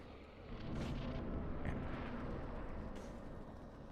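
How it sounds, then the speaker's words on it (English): A blood explosion spell strikes the Covetous Demon in Dark Souls, a deep rumbling blast that swells after a brief lull and roars on as a broad, sustained eruption. "Covetous demon gets hit with a blood explosion spell"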